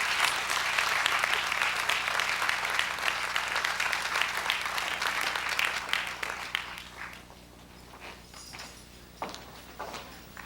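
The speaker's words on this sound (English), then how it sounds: "would you please give a big round of applause and welcome Revelation" Warm audience applause welcoming a high school chorus at a school resource center's grand opening ceremony, dense clapping for about seven seconds that then fades to a few scattered claps and room noise.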